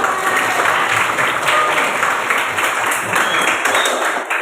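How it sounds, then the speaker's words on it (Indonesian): A class of students claps together after a classroom guidance activity, a loud, sustained burst of applause that stays even throughout and thins slightly at the very end. "tepuk tangan untuk semua"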